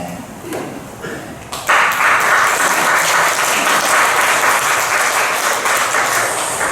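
A church congregation breaks into applause after a few scattered taps, a dense wash of clapping hands that starts abruptly and holds steady through the end, filling the room.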